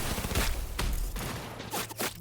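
Loud gunfire rings out in a Cyberpunk 2077 Phantom Liberty firefight against scavengers in Dogtown, with several heavy blasts spaced a fraction of a second apart and sharper shots layered near the end.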